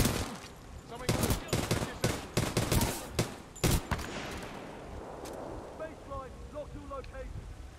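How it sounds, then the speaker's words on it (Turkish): Rocket fire and a burst of explosive gunfire in the video game Titanfall 2, loud sharp blasts crowding the first four seconds, then fading into a lower rumbling aftermath with some voice. "Bir yere roket mi attı lan?"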